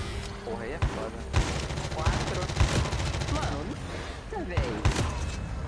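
Bursts of gunfire ring out in a competitive Call of Duty Mobile match, sharp repeated shots spread across a few seconds while players talk excitedly over them.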